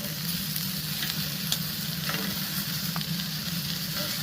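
Chicken wings sizzle steadily in a Blackstone pizza oven running just under 500 degrees, a constant close hiss with faint crackles and small pops as they are flipped, no talking.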